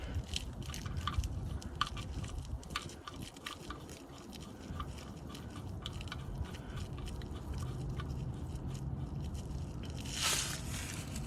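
Motor oil drips from a 2018 Chevrolet Camaro SS during an oil change, onto kitty litter, as irregular soft taps and wet ticks scattered over low background rumble, with a short hissing scrape near the end.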